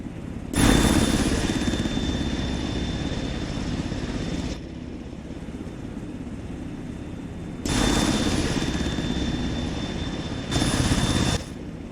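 Aircraft engines droning steadily in flight in the TFT8 MilSim video game, a loud continuous roar that swells and eases in level a few times, heard alone with no talking.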